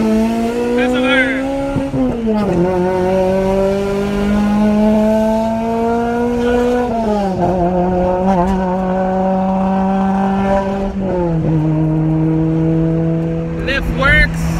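A car fitted with PPE headers driving on the road, its engine droning loud and close, pitch climbing through each gear then dropping at the shifts, with a couple of faint squeaks.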